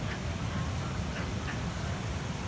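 Ducks quack a few times from inside a canal lock, faint and slightly distant over a steady background rumble.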